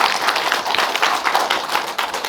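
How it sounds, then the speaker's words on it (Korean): A studio audience claps at a talk about parenting and adolescence. The applause is brisk, continuous and fairly loud, with many hands patting quickly throughout. "박수 한번 주십시오."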